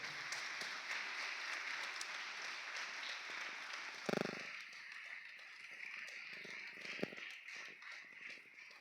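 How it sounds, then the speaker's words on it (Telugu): An audience at a church prayer service applauds in a steady, fairly quiet patter of many hands, with a few sharper single claps breaking through. "గట్టిగా చప్పట్లు కొడదాం."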